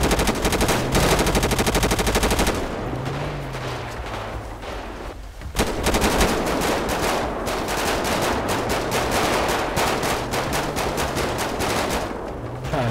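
Gunfire in GTA 5 roleplay: rapid automatic bursts crackle loudly in repeated volleys, broken by a short lull before the shooting resumes, with no talk over it.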